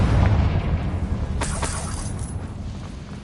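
A Confringo fire spell explosion in the video game Hogwarts Legacy, a heavy low boom that opens loud and rumbles down, with a sharp crackling burst around the middle.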